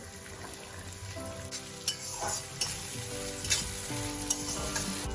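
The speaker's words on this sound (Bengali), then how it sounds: "এবার আমি সবজিগুলি ভেজে নেব সবার প্রথমে দেব গাজর" Carrots fry in a pan of oil spiced with cardamom, cinnamon and cloves for fried rice: a constant close sizzle broken by several sharp scrapes and clinks of a spatula stirring, with no talking.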